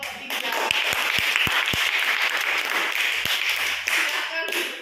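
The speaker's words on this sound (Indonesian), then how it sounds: "Beri tepuk tangannya untuk kelompok 3." Classroom applause for a student group after their discussion presentation, a steady wash of many hands clapping throughout with a few sharper near claps standing out.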